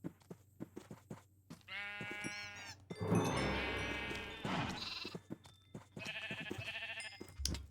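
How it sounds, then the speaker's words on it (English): Minecraft sheep, many of them lambs on a farm, bleat repeatedly in overlapping calls, loud and close, separated by sharp clicks and short gaps of quiet. "Many baby sheeps, but only one cow."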